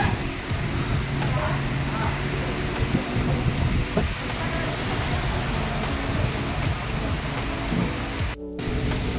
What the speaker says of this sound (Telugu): వర్షం పిచ్చి పిచ్చిగా స్టార్ట్ అయిపోయింది.